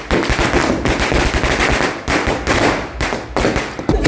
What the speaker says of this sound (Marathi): ह्या फटाक्यांच्या आतषबाजीत बाळाचं त्यांनी घरी स्वागत केलं